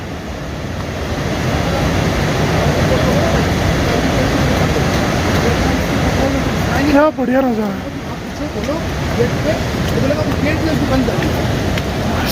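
Loud, steady rushing of a fast mountain river on the Sonprayag–Kedarnath route, a continuous broadband roar running throughout with someone speaking briefly over it midway.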